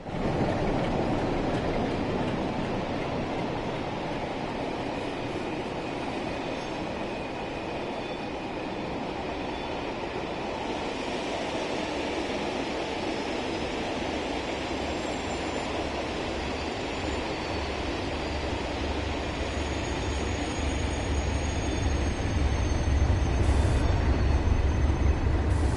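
Class 37 diesel locomotive running in the Train Sim World 6 game on the approach to London Euston, a steady rumbling drone of engine and rolling wheels held throughout, swelling slightly near the end, with no talk.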